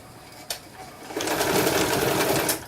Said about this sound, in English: I left it on a satin stitch, that's why it's going back and forth